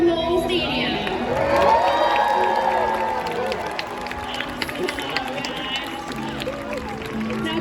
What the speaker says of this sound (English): she needs a loud cheer from the whole stadium